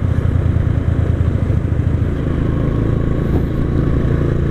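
Custom classic motorcycles idle and rumble together close by on a group ride to Bukit Pangonan in Banyumas, a loud, steady, throbbing engine drone with light mechanical clatter and no talking.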